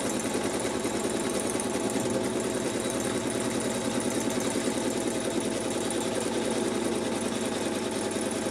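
A sewing machine stitches layers of fabric and wadding for a bag, running in a fast, even mechanical rhythm that stays close and continuous the whole time with no voices.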